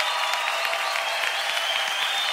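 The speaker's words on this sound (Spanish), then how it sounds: "¡Un aplauso!" A studio audience at a televised New Year's Eve show breaks into steady, sustained applause, with many hands clapping evenly throughout.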